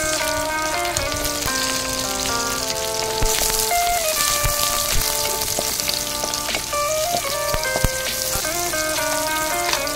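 Onions sizzling and frying in a pan alongside fish for a Chinese-style fish with vegetables dish, a steady close crackle over soft background music, no talking.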